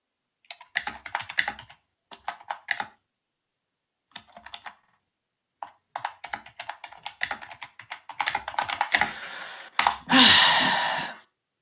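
Typing on a computer keyboard comes in irregular bursts of quick clicks separated by short pauses, close and clear, with a denser, louder flurry of keystrokes near the end.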